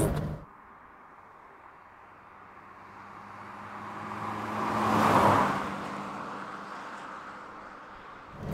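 A 1990 Wartburg 353 with a two-stroke engine driving past, a steady engine drone swelling to a loud peak midway and then fading, with no talk.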